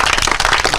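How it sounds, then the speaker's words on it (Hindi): An audience claps at a public gathering, a dense, close, steady burst of many hands applauding without pause for under a second. "ताली बजाइए आप लोग"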